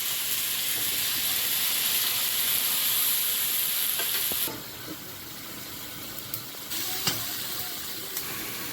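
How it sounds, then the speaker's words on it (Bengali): Green chillies and tomato paste fry in a hot pan with a loud, bright sizzle that drops sharply midway as the paste goes in, followed by quieter frying and a few spatula scrapes. "কাঁচা লঙ্কা এগুলো নাড়াচাড়া করে নিয়ে টমেটো বাটা"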